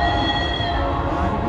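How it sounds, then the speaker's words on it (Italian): A passing train rolls by loudly and steadily, with a sustained horn-like tone and the rumble of rail cars, on a road where riders pass with horses. "ci deve essere la suonata del treno per spaventare i cavalli"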